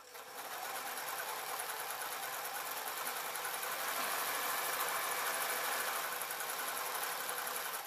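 A sewing machine stitches rounds of a fabric mop hat, a steady, fast, continuous whirring hum that holds evenly from start to finish.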